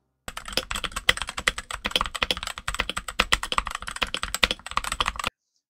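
Rapid, crisp clacking of a Redragon mechanical keyboard with a tape mod being typed on continuously, close and clear, with no talking.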